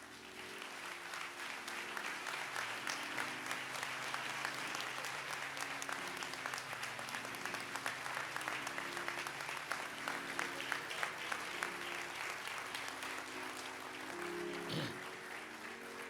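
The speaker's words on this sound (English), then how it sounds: "Please give a great round of applause for the Reverend Al Sharpton." An audience at a memorial service applauds continuously and loudly, a dense steady patter of many hands clapping that fades slightly near the end.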